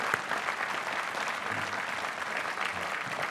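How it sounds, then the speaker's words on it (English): A large audience at Caltech's commencement ceremony applauds parents and families, a steady, even wash of clapping throughout, moderately loud with no speech over it. "Let's give applause to all the parents and grandparents and family members"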